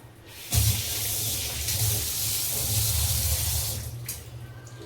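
Running water pours steadily while goat intestines are rinsed and washed by hand under it, a close, continuous splashing hiss that begins abruptly and carries on without talk.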